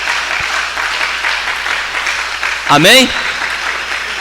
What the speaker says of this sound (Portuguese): Aplauda bem forte a Deus.